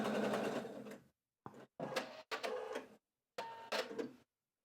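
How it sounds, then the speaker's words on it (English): A Husqvarna Viking sewing machine fitted with a gathering foot stitches in several short bursts, its rapid mechanical whirr starting and stopping with brief silent pauses between runs. "all you have to do is sew a line of stitching."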